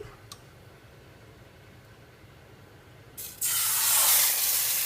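Egg hopper batter hitting a hot pan in a Sri Lankan kitchen, a sudden loud, steady sizzling hiss that starts late and carries on to the end, close up.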